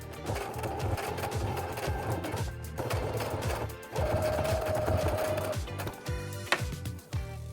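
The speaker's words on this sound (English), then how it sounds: "now I'm gonna do a top stitch along both of these to keep everything in place" A home sewing machine top stitching close to the fabric edge on a reusable coffee sleeve, a steady close whirring chatter running in several bursts with brief pauses between them.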